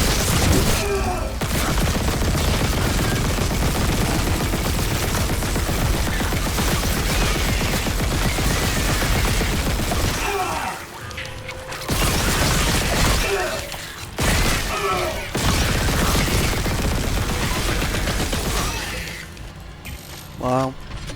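Sustained rapid gunfire and mechanical clatter at a firing range in the game Dead Space, loud and nearly continuous, with brief lulls around the middle and end.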